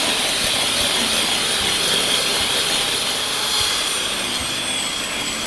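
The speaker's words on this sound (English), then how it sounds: "I'm going to get the electric whisk in here." Electric hand whisk beating carrot cupcake batter in a bowl, a steady high whirring motor hum with faint rattling against the bowl, close and continuous throughout.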